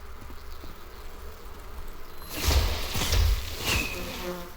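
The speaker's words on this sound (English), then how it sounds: "They guard their hive, so if you're wondering why they just appeared, they're usually over by the beehives." Bees guarding their hive in the video game Enshrouded, a buzzing swarm that rises out of a quiet ambient background halfway through and stays close and moderately loud.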